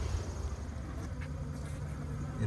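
Agitated honeybees at an opened top bar nuc hive during an inspection: a dense, continuous low buzzing hum, close and steady throughout with no breaks.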